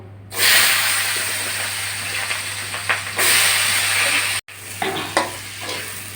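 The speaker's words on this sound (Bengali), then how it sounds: "আলুগুলো ভালো করে ভেজে নেবো" Sliced new potatoes fry in hot oil in a pan, a loud close sizzle and hiss that swells, drops off briefly around midway, with soft stirring scrapes over a low steady hum.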